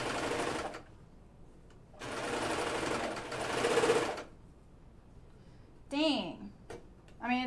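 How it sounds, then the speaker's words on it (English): A serger overlock machine stitches a Deer and Doe Myosotis dress in two loud, close whirring runs separated by pauses, and a voice speaks near the end. "let me finish serging"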